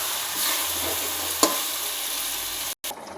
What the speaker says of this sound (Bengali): এবার একটু নাড়াচাড়া করে নিয়ে ঝোলের জল দিয়ে দেবো